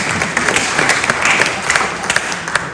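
An audience gives a hearty round of applause at the end of a talk in Bampton, Oxfordshire, with close, lively clapping and a few sharp individual claps standing out from the steady crowd sound.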